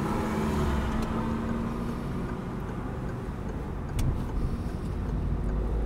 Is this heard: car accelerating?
yes